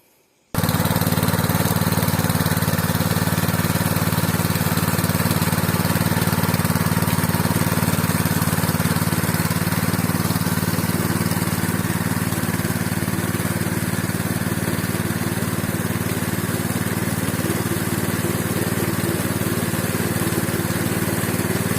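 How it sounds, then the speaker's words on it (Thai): A small four-stroke gasoline engine driving a three-cylinder pressure water pump starts up and runs at a steady, loud drone, holding a constant pitch with no talking. "ขับเคลื่อนด้วยเครื่องยนต์เบนซิน 4 จังหวะนะครับ"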